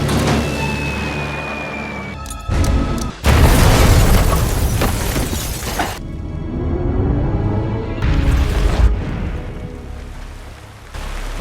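Film explosions from a wartime bomb drop, heavy booming bursts and rumbling blasts in several loud waves, with crackling debris and a rain-like roar between them.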